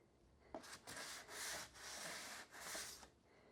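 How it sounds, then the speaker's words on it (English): Light hand sanding over spackle on a wooden plate rack, a series of close, scratchy back-and-forth strokes in steady bursts, alone with no talk. "we're just gonna lightly sand anywhere that we added a little bit of spackle"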